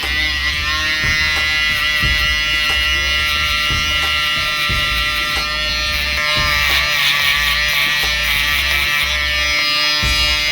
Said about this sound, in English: when you're using the shaver, keep in mind, you want to stay lower